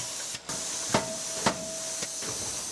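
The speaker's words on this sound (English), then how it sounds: "So that's a hammer that actually comes down like a hammer and actually pounds it 3 times into roughly the shape of a golf club" A forging hammer press pounds a mild carbon steel billet into the rough shape of a golf club, three evenly spaced heavy strikes over a constant loud hissing industrial background, with a faint fourth knock after them.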